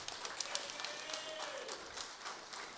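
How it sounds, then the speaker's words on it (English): Audience applause after a student soloist at a middle school eighth grade band concert, a steady patter of clapping from a modest crowd with a faint tonal note drifting through the middle. "Give her a round of applause"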